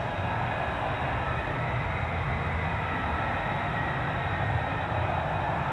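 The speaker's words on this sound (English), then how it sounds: "Let's get some more reheat." An F-35 Lightning jet engine runs on reheat afterburner with a broad, continuous, roaring rumble that holds steady and loud throughout, with no voices over it.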